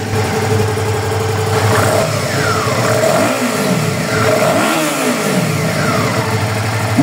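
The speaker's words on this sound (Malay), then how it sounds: "Bunyi enjin pun sangat sedap." A Suzuki V-Strom motorcycle engine runs loudly nearby, idling with a steady throb and rising and falling in a couple of revs.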